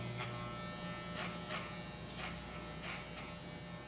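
Electric hair clipper buzzing steadily at close range while cutting hair for a high-top textured party boy haircut, with a constant motor hum and soft periodic swells as the blades sweep through the hair.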